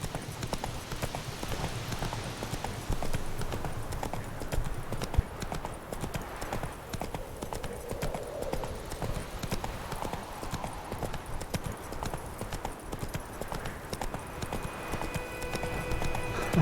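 Horse hooves galloping steadily in The Witcher 3, a dense, continuous clip-clop rhythm running throughout at moderate level with no talk.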